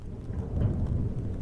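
Deep rolling thunder rumbles through a rainstorm during the rainy season in South Korea, a loud continuous low roar with steady rain hiss, no voices.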